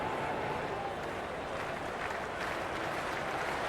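A dense, steady roar of a cricket stadium crowd in Cricket 26 fills the air, broad applause and cheering sustained evenly throughout without clear breaks.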